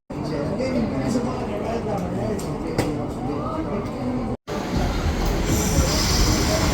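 Train pulling into a station platform in Dublin on a sunny Friday evening, a steady loud rumble of wheels on rails with faint squealing throughout, a brief cut partway, with voices in the background.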